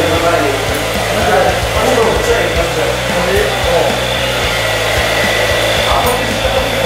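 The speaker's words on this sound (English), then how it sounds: "I'm gonna set my clippers to half." Electric hair clippers set to half buzz continuously and close up while fading the sides of a skin fade pompadour, a steady motorized drone with faint low pulsing and no break.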